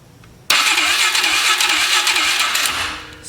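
A 2003 Polaris 500 ATV engine cranking with the throttle closed: a sudden loud whirring starter burst after a short quiet start, churning steadily for nearly three seconds, then fading at the end. Nobody speaks.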